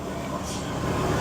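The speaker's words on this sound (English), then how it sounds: "Sorry about the noise from the buses." Buses rumbling past near a campground at Disney's Fort Wilderness Resort, a dense, steady low engine roar filling the whole moment, close and loud with no breaks.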